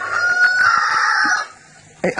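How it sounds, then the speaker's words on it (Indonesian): A rooster crows loudly and close by in one long, drawn-out call, followed by a brief clucking burst at the end. "Ayam yang jawab."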